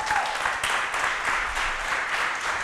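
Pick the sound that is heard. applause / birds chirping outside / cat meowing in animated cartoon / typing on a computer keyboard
applause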